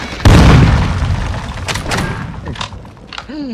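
A grenade blast in a first-person shooter game goes off with a loud, close boom, then rumbles and decays over a couple of seconds, followed by scattered smaller impacts and a brief electronic whine.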